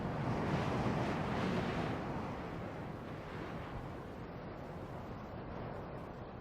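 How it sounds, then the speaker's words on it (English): Wind sweeping down from the Andes across the Atacama Desert, a broad rushing whoosh that is strongest at first, then eases to a softer steady blow, with no voices. "The spell of silence is broken by air that sweeps down from the Andes."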